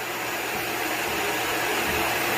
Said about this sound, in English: This dog hates hearing this vacuum.